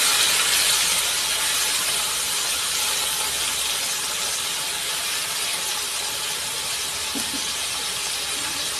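Capsicum, onion, garlic and green chili fry in hot oil on a tawa with a steady, loud, bright sizzling hiss that carries on unbroken, easing a little as it goes.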